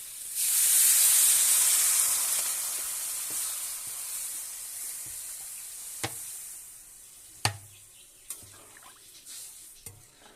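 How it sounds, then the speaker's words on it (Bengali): Potatoes fry together in a pan with a strong hiss that fades gradually, followed by a few sharp knocks and scrapes of a spatula against the pan. "এবারে দিয়ে দেবো আলু, সবগুলো একসাথে একটু ভালো করে ভেজে নেব।"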